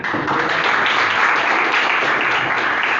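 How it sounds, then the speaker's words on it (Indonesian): Students in a classroom break into steady, dense applause that holds at an even level from start to finish, with no one speaking over it. "tepuk tangan"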